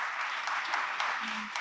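Brief applause from an audience at a startup panel, a short burst of clapping lasting under two seconds with a voice briefly over it.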